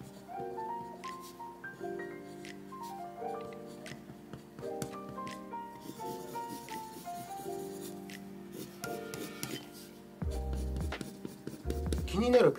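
A DELFUL mechanical pencil writing on paper gives a steady, light scratching and tapping of lead strokes, close and fairly quiet under soft background music.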